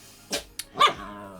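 A pet dog lets out two or three short, sharp barks at close range in a quiet kitchen, without any talking.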